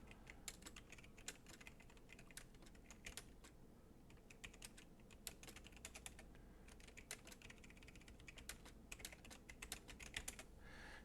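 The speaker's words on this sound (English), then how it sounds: "So I got to do a little bit of typing up in there too" Steady computer keyboard typing in a gaming session, a dense run of quick key clicks with occasional louder strokes, close and continuous, over a low hum of background game sound.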